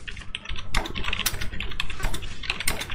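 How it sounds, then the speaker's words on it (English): Rapid, irregular clatter of keys on a computer keyboard, close and fairly loud, with dense keystrokes and a few sharper hits spread across the whole stretch. "I suppose the keyboard is pretty atrocious still."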